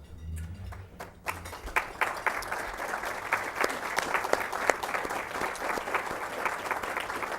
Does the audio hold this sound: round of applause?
yes